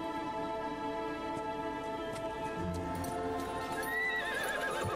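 Horse from Darksiders III whinnying and neighing over a steady clopping of hooves, with game music sustaining underneath; the neigh rises near the end, close and clear.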